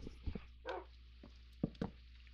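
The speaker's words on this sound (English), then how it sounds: "What are you barking at?" A dog barks indoors in a workshop, giving a few short, sharp barks and a yip spread over a couple of seconds, moderately close against a low steady hum.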